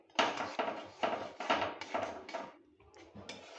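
A utensil stirring thick, jelly-like mango chutney in a pot with the gas turned off, a series of clattering scrapes and knocks in an even rhythm, close and fairly loud, ending with a few lighter taps.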